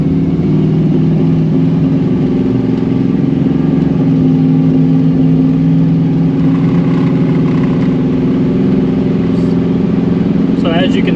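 A Chevrolet Squarebody truck with a constant pull to the right cruises down the highway, giving a steady, loud low engine and road drone throughout, with a voice talking over it.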